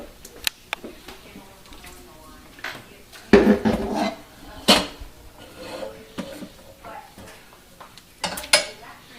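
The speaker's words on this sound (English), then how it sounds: "So now what you do, you just dip them off into this strainer." Cooked apples for apple butter being dipped into a strainer, with scattered clinks and scrapes of a utensil against metal and dishes, a few sharp knocks between quieter stretches, and a voice talking over them.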